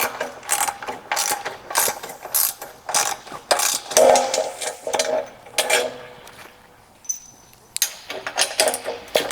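Loud, close ratcheting clicks from a wrench removing bolts from a shipping spreader on a double hydraulic PWC lift, in repeated quick bursts with short gaps and a metallic clink near the end.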